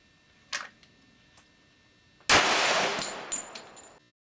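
A gun fired from the hip at a soda bottle on an outdoor range lets out one sharp, loud blast with a ringing tail. A few faint clicks come before it.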